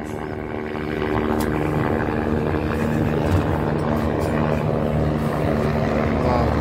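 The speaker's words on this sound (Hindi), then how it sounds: "हेलीकॉप्टर" A helicopter flies close by, its rotor and engine making a loud, steady thrumming drone that swells slightly after the first second and holds.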